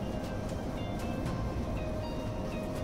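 A passenger train running from Veraval to Amreli in Gujarat, heard as a steady, loud rumble of wheels and carriages with faint periodic clicks of rail joints, continuous from start to finish.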